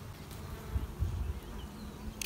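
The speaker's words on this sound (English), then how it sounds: "Just sitting here watching my bees." A steady, low insect buzz of bees droning continuously nearby, swelling slightly in the middle, with no voices.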